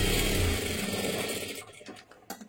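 Sewing machine stitching a katori blouse, running in a steady fast whirring burst that fades and stops partway, followed by a few faint handling sounds.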